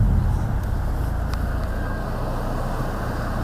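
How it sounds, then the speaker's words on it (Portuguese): A Mercedes A35 AMG's engine drones steadily with constant low rumble and whooshing turbocharger air noise, loud and continuous throughout, no voices. "Estamos constantemente a ouvir o turbo,"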